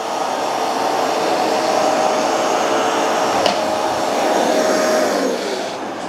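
A Bissell TurboClean carpet cleaner runs steadily through a dry pass on carpet, its loud, even motor whine and suction roar close by and alone, with only a faint shift in tone near the end.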